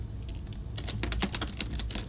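Fingers tap rapidly on a computer keyboard, a close run of irregular clicking keystrokes over a low background hum, with no speech.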